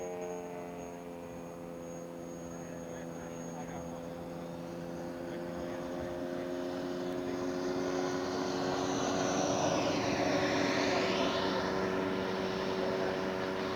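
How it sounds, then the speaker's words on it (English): A scale model F9F jet aircraft flies in to land at a scale aircraft show. Its engine gives a steady, droning harmonic tone that swells louder as it approaches and sweeps in pitch near the end. "Okay, the F9F is coming in."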